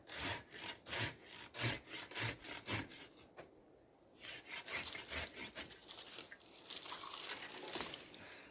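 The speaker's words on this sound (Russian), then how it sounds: "Грубая пила." A coarse hand saw cuts through wood outdoors with steady back-and-forth rasping strokes, close and rhythmic, then settles into a continuous grinding scrape.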